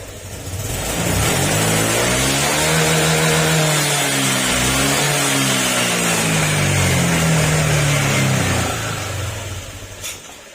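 Honda Click 150 scooter engine revving up from a warm-up idle, pitch climbing and holding high, dipping briefly, then rising again before dropping back, loud and close with no voices.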